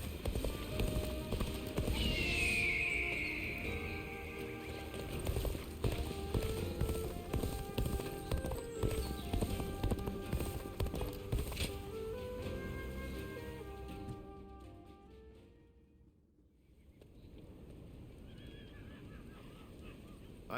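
Massed horses gallop through a battle in Dynasty Warriors Origins, a steady drumming of hooves under game music and a goose-like honking cry, thinning out near the end.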